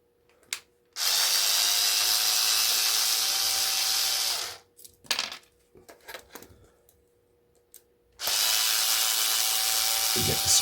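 A power drill backs screws out of scrap metal in two long, loud, steady whirring runs, with clanks and handling noises of the scrap in the gap between them.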